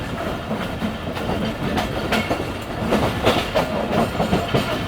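A Pakistan Railways Karachi Express train runs at speed, heard from inside a coach as a steady rumble with repeated clickety-clack wheel beats over the rails.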